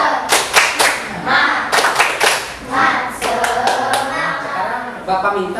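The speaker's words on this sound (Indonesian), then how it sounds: "Tepuk semangat" A classroom group performs tepuk semangat, a spirit clap chant, with sharp loud bursts of rhythmic hand claps in patterned clusters, broken by short pauses and mixed with voices chanting along up close.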